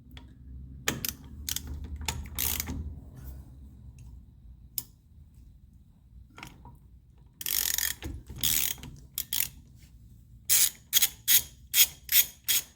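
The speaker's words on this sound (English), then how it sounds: "use a 13/16 socket to remove the nut, the castellated nut." A 13/16 socket ratchet works a castellated wheel nut on a Triumph Spitfire hub, with quiet clicking at first, then loud bursts of rapid ratcheting and a final run of sharp, evenly spaced pawl clicks, close up and with no voices.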